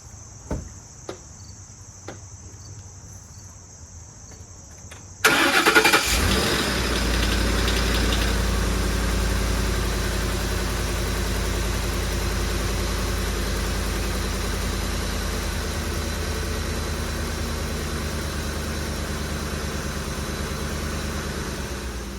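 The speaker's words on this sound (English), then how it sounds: "Let's start her up and see if it leaks." A 2010 Ford F-150 XLT, just filled with fresh 5W30 oil after an oil change, cranks and fires about five seconds in after near silence with faint clicks, then settles into a steady, loud, close idle.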